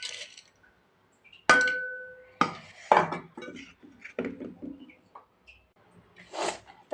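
Masoor lentils go into a cooking pot with sharp clinks and ringing knocks of a utensil against metal, followed by a soft scattered patter and a few more scrapes and taps in a quiet kitchen.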